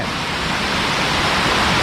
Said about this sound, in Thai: นี่ครับน้ำตกตาดแท้